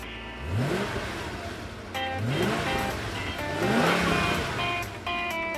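A cartoon sports car engine revs in repeated rising bursts, three climbing whines a couple of seconds apart, loud and close over busy background sound.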